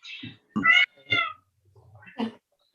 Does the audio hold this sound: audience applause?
no